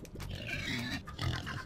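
Cartoonish pig oinks and grunts from the video game Turnip Boy Commits Tax Evasion, a couple of short squealing bursts close up, with no talk over them.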